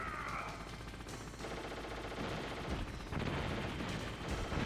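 Gunfire from the Metal Gear Solid video game during a boss fight with a Hind helicopter: bursts of shots and rapid automatic fire over game music, fairly quiet and continuous.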